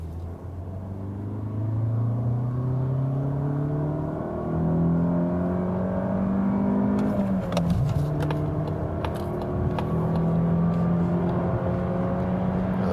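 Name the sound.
Mazda CX-30 accelerating in second gear from 40 km/h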